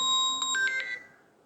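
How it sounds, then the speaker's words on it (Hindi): A phone rings with an incoming call, giving a short electronic melody of bright beeping tones that stops after about a second and then fades away. "हाँ एक और फोन आ गया, सुनते रहिए।"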